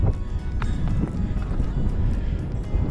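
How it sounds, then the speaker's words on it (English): Strong wind roars across a frozen lake in the Boundary Waters during a snowstorm, a steady low buffeting rumble against the microphone that stays loud and constant throughout. "It's too windy and it's snowing."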